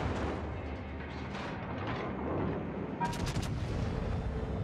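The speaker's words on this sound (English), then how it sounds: "Do a bit of a blind shot there." Heavy naval gunfire from a Louisiana hybrid battleship in a naval combat video game, a continuous deep rumbling barrage with a sharper burst of shots near the end, loud and sustained with no talking.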